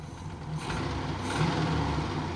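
An abandoned Mercury Capri Turbo, back running after 23 years, revs up with a steady, loud engine roar that swells slightly midway, close by and with no talking over it.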